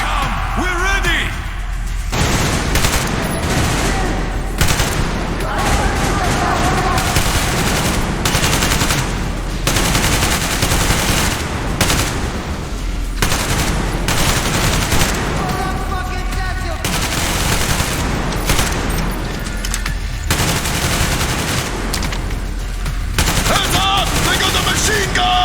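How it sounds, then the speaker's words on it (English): Sustained machine gun fire in the video game Metro Exodus rattles in dense, continuous bursts across the whole stretch, loud and close, with shouting voices breaking through the gunfire. "Machine gun!"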